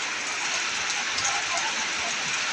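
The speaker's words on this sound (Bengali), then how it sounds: "থেকে থেকে বৃষ্টি পড়ছে।" Rain falls in Kushtia district, a steady, dense hiss of drops with no clear pauses, close and fairly loud throughout.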